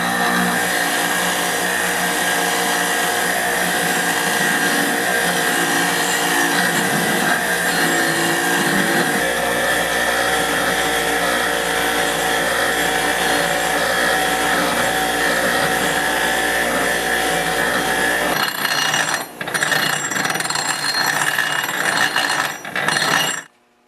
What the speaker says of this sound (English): What works good to get the rust off is a little grinder like that with a wire brush